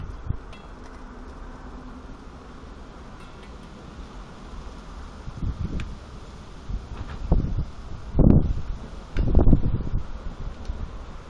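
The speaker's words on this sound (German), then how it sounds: "ist ganz schön windig." Gusty wind rumbles against the microphone outdoors on a balcony, with several strong low thumps of gusts growing toward the end; no talking.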